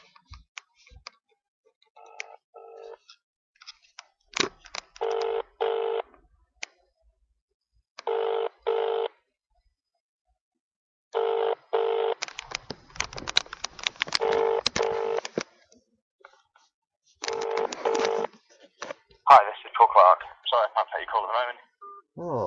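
Telephone keypad tones beep in short bursts as a number is dialed, followed by ringback tones of a call going unanswered, with a voice speaking between the tones.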